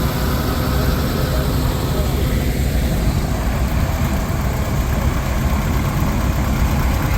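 A 1950 Minneapolis Moline tractor engine idles at a steam power show in Sycamore, Illinois, a loud, close, steady low rumble that never changes pace from start to finish.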